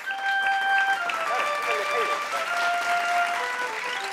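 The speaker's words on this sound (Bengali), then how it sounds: "জোরে হাততালি।" Loud applause from a studio audience on a Bengali television quiz show, a dense sustained clapping wash with some music tones running through it.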